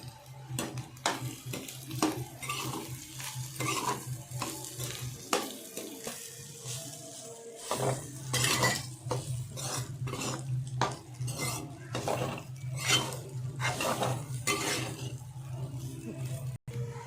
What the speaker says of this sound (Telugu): ఇప్పుడు అన్నీ బాగా కలిసేలా మిక్స్ చేసుకోవాలి